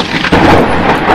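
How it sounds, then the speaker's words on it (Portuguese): Thunder sounds as a loud, close, deep rumble that swells suddenly and rolls on steadily to the end without fading, with no voices over it. "Com um novo trovejar,"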